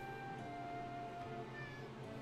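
A cat meowing indoors in a short, close, drawn-out tonal call that wavers slightly in pitch, sounding over a constant background hum with no talking.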